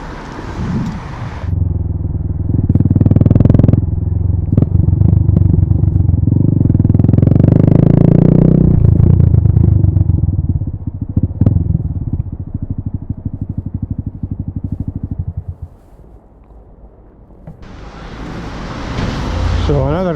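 A Honda Grom 125 motorcycle engine revs and runs loudly close by, rising and falling through gear changes before easing off, then picking up again at the end.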